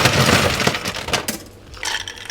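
Ice cubes tumble into a mixing glass for a stirred Vieux Carré cocktail, a loud, dense rattle and clatter of ice against glass that thins out into a few scattered clinks.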